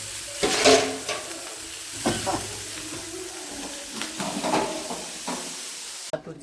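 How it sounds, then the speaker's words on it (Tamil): Crab sautéing in a pan gives faint, intermittent sizzling and stirring scrapes, with soft clatter and quiet room sounds at close range. "மக்களே இப்போ சூப்பரான நம்ம நண்டை வதக்கி"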